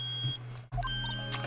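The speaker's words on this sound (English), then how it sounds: "it's beeping. The metal detector's found something." A metal detector sounding a steady electronic beep, a sustained tone that cuts out briefly midway and then resumes with a few short higher blips, fairly loud and close.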